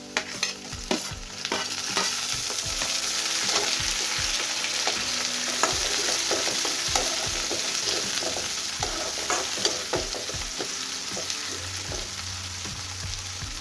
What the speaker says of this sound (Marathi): कांदा भाजलेला आहे टोमॅटो घालूया